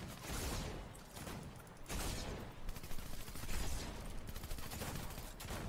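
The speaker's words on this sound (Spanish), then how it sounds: "veo tiros de todos, veo tiros de todos lados" Gunfire erupts from all directions in a shooter video game, with dense, overlapping bursts of shots and rapid fusillades rolling continuously at moderate loudness.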